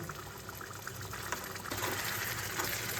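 Spiced oil poured over bottle gourd leaves covering small mourala fish in a pan: a continuous hissing, gushing sizzle of hot oil, close and steady, with no talking.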